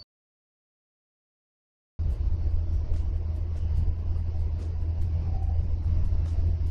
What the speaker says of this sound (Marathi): खूपच घाण ट्रॅफिक मध्ये लटकलो आपण सध्या या ठिकाणी